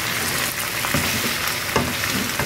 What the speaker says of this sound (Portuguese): E a gente vai mexendo aqui com todo carinho, deixando fritar, virando, deixando fritar, virando.